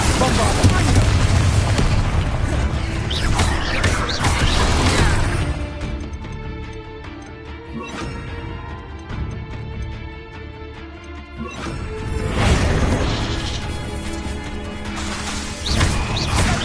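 In Hogwarts Legacy the Bombarda blasting spell goes off in loud, heavy booming explosions, first a long roaring burst, then a quieter stretch, then another big blast, with a voice heard among them.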